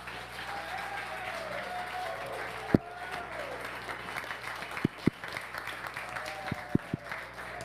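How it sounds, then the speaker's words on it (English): A large audience at a Berlin conference applauds Audrey Tang as a steady, distant wash of clapping, with a few sharp louder claps or knocks standing out near the end. "So give Audrey a big round of applause"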